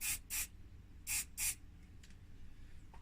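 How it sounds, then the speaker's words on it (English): Video head cleaner sprayed onto a swab while servicing a 1993 Pioneer CLD-2850 laserdisc player: four short, crisp hissing spray bursts in two pairs, close and loud over a quiet background. "Spray a little bit onto a swab that I've got here."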